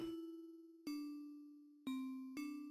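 Synthesized bells put through an Erosion distortion effect ring out as four struck tones, each a bright clang with a gritty buzzing edge, ringing on and decaying until the next strike.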